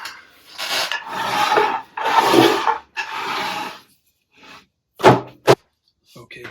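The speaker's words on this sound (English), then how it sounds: "I'm going to pull it together with clamps while it's upside down" Glued wooden table case pieces being pulled together with clamps while upside down: several rasping, rubbing wooden bursts, then two sharp knocks near the end, close and fairly loud.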